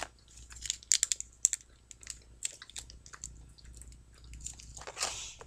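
Soft McDonald's fries dipped in a mix of ketchup and mayonnaise are eaten close to the mic, with quiet wet squishy bites and chewing in short bursts and no talking.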